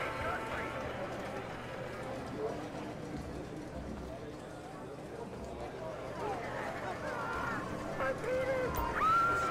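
Galloping horse hooves during a horse race in a video game: steady rapid clip-clop running under continuous talk, fairly close, with some wind noise.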